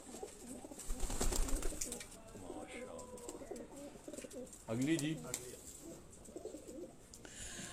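Pigeons coo in a coop of old breeding birds, soft repeated coos mixing with other bird calls while people talk nearby.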